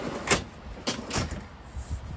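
A drawer sliding open in the camping rig of a 2013 Isuzu D-Max, a few short rumbling slides and knocks over steady outdoor background noise.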